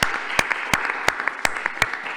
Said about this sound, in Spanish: Un aplauso y un agradecimiento de los aquí presentes.